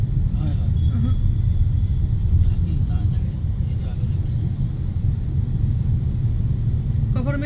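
A low, steady engine rumble fills the ride on a motor vehicle along a road, loud and continuous throughout, with speech over it.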